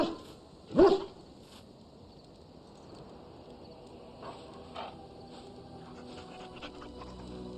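A dog in the video game Dragon Age gives a loud short bark-like burst, then pants and whimpers faintly over a quiet game ambience with a steady high hum.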